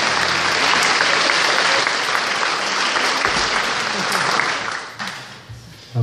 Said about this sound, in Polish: Paulina Piechowicz, wielkie brawa